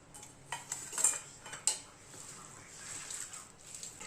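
Vegetable cutlet mixture stirred together with soaked poha in a bowl, giving faint, close scraping and clinking of a spoon against the dish in uneven bursts.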